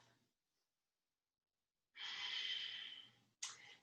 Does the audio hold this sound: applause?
no